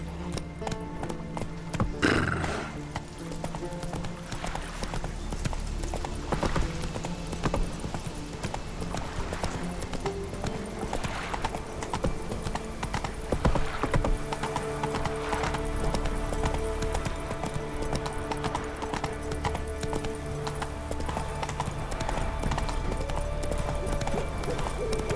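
Horse hooves clip-clopping in The Witcher 3 video game, a steady rhythmic gallop heard throughout with game music and ambience, an occasional whinny, and a brief voice.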